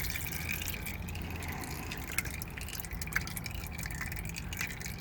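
Engine oil drains steadily from a Lincoln MKX during an oil change, a continuous trickling, dripping flow heard close up with a few sharper drips standing out.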